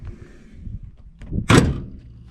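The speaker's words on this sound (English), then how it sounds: "such a satisfying sound when you close the hood" The hood of a 1966 Ford Mustang drops shut with one solid, heavy thunk after some soft shuffling and handling noises.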